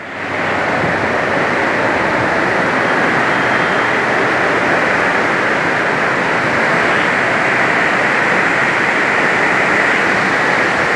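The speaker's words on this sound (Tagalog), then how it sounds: "Sobrang lakas ng ulan mga langga." Very heavy rain pouring down around Quezon Avenue Station, a dense, loud, continuous hiss that stays steady and unbroken from start to finish.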